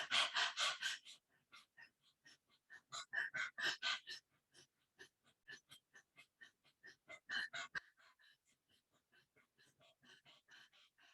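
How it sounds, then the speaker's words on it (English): Rapid, forceful panting breaths in bursts during a Swan Pranayama yoga breathing exercise, like an aggressive panting dog, alternating with quieter, gentler breathing toward the end; close and alone, no talk. "So we do the dualities of an aggressive panting dog breath along with a gentle feather touch."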